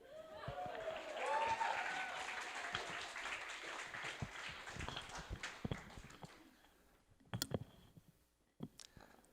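A live audience at a beatboxing talk claps and cheers loudly, the crowd noise swelling, then thinning into scattered claps and a few voices as it fades.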